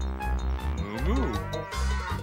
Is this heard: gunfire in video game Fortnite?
no